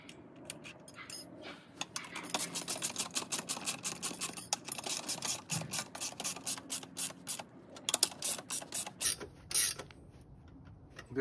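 Bolts are tightened with a ratcheting tool while a VEVOR garden cart utility wagon is assembled, giving rapid close clicking bursts in repeated runs with brief pauses and metallic creaks.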